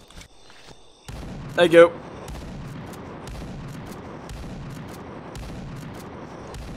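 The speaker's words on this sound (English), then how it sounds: "Pull out my shotgun." Gunfire in Brutal State, a classic-style indie first-person shooter, with a shotgun in use: a steady run of repeated shots and impacts follows a quiet opening, and a short spoken phrase cuts in over the fire.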